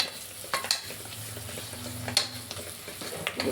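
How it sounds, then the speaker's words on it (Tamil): Green chillies sautéing with golden onions in a pan for Chettinad-style chicken biryani, giving a soft steady sizzle with a few sharp stirring scrapes, close and fairly quiet, with no talking. "பச்சை மிளகாய் போட்டு நல்லா வதக்கி"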